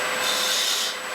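A wood lathe gouge cuts a cove into a drawer pull, making a steady, close, continuous scraping rasp with no breaks and no voices.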